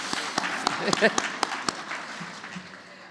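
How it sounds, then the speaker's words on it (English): An audience at a hospital gala claps in a scattered, thinning round of applause, individual hand claps standing out close by before the noise fades, with speech mixed in. "Keep clapping."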